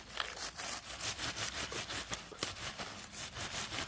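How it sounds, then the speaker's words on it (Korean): A slim hand saw cuts through dried black soybean stalks at harvest, working from the base. Steady back-and-forth rasping strokes repeat in a fast, even rhythm. The sound is loud and close, with no talking over it. "일단 톱으로 비 오기 전에 전부 잘라 놓도록 하겠습니다"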